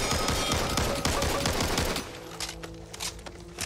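A Mini-14 ranch rifle in Back 4 Blood fires a rapid, loud string of shots, then slows to a few spaced cracks, with no talking.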